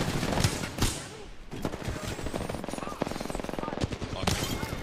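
Rapid hip-fire gunfire from Apex Legends rattles in close, loud bursts, with several weapons trading shots in quick succession across a frantic firefight.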